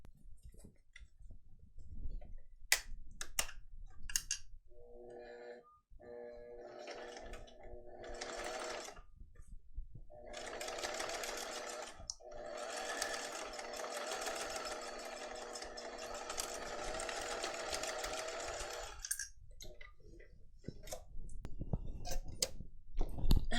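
A sewing machine stitching two rows along a vinyl bag's seam runs in long steady whirring bursts of rapid needle clatter, broken by short pauses and clicks as the fabric is repositioned.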